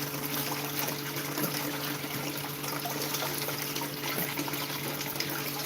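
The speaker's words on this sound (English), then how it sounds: "Let me just give it one extra little splash." Water splashing and trickling through gold panning equipment, a continuous wash of running liquid with no speech over it.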